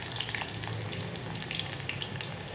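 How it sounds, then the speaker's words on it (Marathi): Onion sizzles steadily in hot oil, a close, even crackle with light stirring and a short knock at the very end. "त्यानंतर मग आधी टाकूया आपण कांदा."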